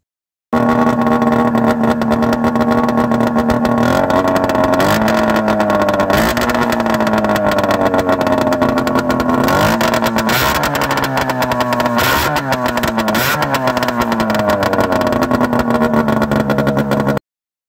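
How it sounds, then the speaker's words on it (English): A loud, raw snowmobile engine with no muffler running close by, blaring steadily with repeated revs rising and falling. "I'm going to try to fire it up here and see what it sounds like with no muffler at all"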